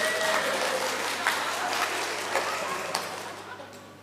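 Applause from the congregation at a wedding blessing service, a steady wash of clapping that is loud at first and slowly fades away.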